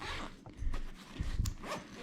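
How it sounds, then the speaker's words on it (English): A zipper on trail running clothing from a mountain ultra race kit is pulled open in several quick, close rasps, with small rustles of fabric between. "you can stage your zippers at the top, so they'll be easy to open up"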